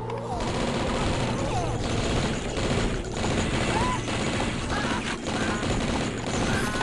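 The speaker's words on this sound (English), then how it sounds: "that shoots two shots at once" Continuous rapid gunfire from a video game weapon that fires two shots at once, dense and loud throughout with clanking mechanisms and faint voices under it.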